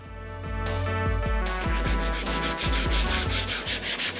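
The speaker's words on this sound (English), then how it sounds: "Quickly sand the tray to remove any spurs resulting from cutting the bookboard." Sandpaper rubs over a bookboard tray to take off spurs left from cutting the board, a steady, close scraping that runs continuously with a rhythmic stroke pattern throughout.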